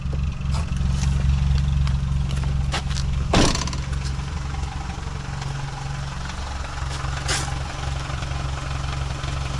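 A VW Passat engine idles with retarded ignition timing during an emergency repair, a steady low rumble running throughout with one brief sharp knock near the middle.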